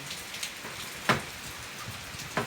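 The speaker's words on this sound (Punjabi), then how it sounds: "ਹੁਣ ਬੜੇ ਮੀਂਹ ਪਾਇਆ ਹੁਣ ਜੀਰੇ ਨੇ ਸਾਰਾ ਮੀਂਹ ਪਾਇਆ" Heavy rain falls steadily over a village farm in Punjab, a soft continuous hiss with a few louder drops striking nearby surfaces, and no voices.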